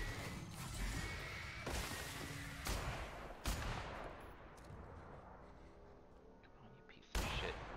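Gunfire in the video game The Outer Worlds: several sharp shots at irregular intervals, each with a broadband crack and a short decay, set over a busy game soundscape.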